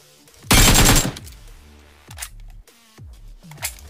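A burst of automatic gunfire from the battle royale game BGMI (PUBG Mobile), loud and dense for about half a second, followed by a few sharper single reports and clicks at irregular intervals.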